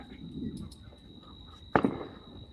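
Fourth of July fireworks and firecrackers at a neighborhood party, with a single sharp, fairly loud bang near the end standing out over a faint, distant background of crackling and murmur.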